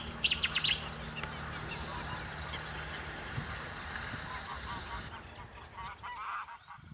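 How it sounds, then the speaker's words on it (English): Geese honk loudly for a moment in wetland reed beds, then a steady wash of chirping and calling from many birds carries on at a distance. "it's home to tens of thousands of resident and migrating birds"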